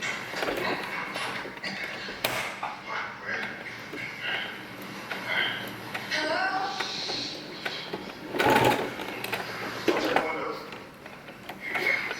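A sewing machine stitching the lining of a bikini swimsuit, heard in short uneven bursts of rapid whirring with pauses and handling noises between them.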